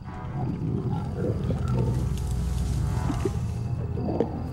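Wild lions in the Sabi Sands growl and roar as they fight, a continuous rough rumbling snarl with overlapping voices, loud and close throughout.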